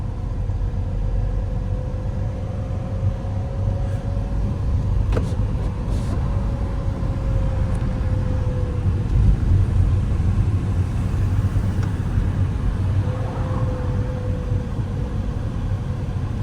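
Steady engine rumble and road noise from inside a car on a city driving lesson under added throttle, a continuous low drone with a faint whining tone rising and falling.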